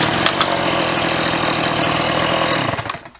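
Stihl MS 180 chainsaw idling after adjustment, its two-stroke engine buzzing loud and steady close by for about three seconds before the sound sputters and dies away.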